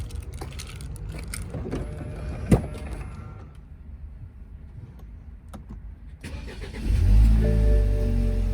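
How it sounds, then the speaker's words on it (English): BMW F30 sedan engine starting and settling into a loud idle near the end, preceded by a quiet interior with faint clicks and a brief sharp knock. "the first thing you want to do is start your car"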